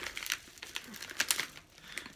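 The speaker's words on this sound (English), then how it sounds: "So, delicately tear through this." Someone carefully tears open a bubble mailer holding a Super Nintendo game, giving soft, close crinkling and ripping bursts in short irregular spurts, fairly quiet.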